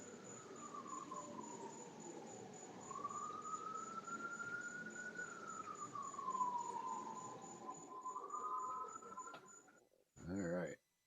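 A distant emergency siren wails in slow rising and falling sweeps over steady cricket chirping on a warm night near Folly in South Carolina, ending with a short burst of voice.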